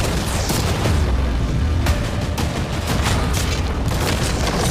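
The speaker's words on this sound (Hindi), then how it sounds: "अब हम तुम्हारी नई यॉट पर कैनन्स को शूट करने वाले हैं" Cannons firing cannonballs at a new yacht, a loud, dense barrage of booms and impacts with several sharp crack-like hits, the rumbling blasts continuing without pause.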